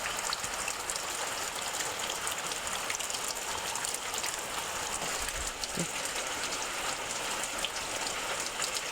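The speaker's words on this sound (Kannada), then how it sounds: "ಅಲ್ಲಿ ಮಳೆ ಬರ್ತಾ ಉಂಟು." Steady rain falls outside a house, a constant close hiss of drops on surfaces that holds even throughout, with no voices.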